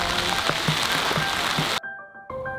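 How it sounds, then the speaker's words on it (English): Dense pattering of hail falls steadily on a small speedboat for nearly two seconds with scattered harder hits, then cuts off abruptly, leaving faint tonal sounds. "It's hailing."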